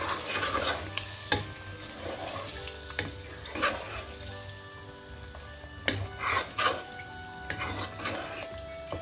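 Yogurt-based chicken gravy for Mughlai malai boti is stirred in a pan over a high flame, with steady scraping and stirring strokes over a continuous sizzle, close and fairly loud.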